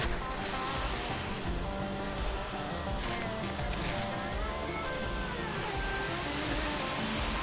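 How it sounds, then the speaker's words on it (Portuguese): Waterfall pouring down a small rock wall hidden in a sugarcane field in rural Brazil, a steady, dense rushing roar heard from nearby that holds constant throughout. "Tipo um paredãozinho com a queda d'água."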